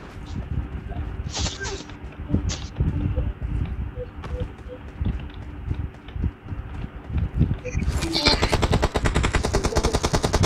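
Gunfire rattles in the mobile game PUBG Mobile, with repeated bursts of automatic shots over steady game noise. The shooting grows louder and more sustained toward the end.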